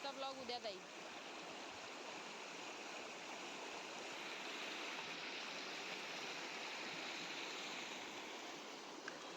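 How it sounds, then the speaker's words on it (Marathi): Water flows steadily off a farm field into a bamboo fish trap, a continuous close rushing and gurgling that holds even throughout, with a brief voice at the very start. "हा सगळा शेतातून पाणी येतं आणि याच्यातच मासे भरपूर असे वाहून येत असतात"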